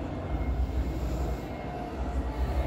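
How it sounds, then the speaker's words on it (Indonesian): Inside the Balai Yasa Manggarai railway maintenance workshop, a low continuous rumble and hum of heavy rail machinery drones steadily, loud and without voices. "Jadi Balai Yasa Kereta Api itu merupakan bengkel kereta api yang merawat sarana untuk memastikan keselamatan dan kenyamanan penumpang kereta api"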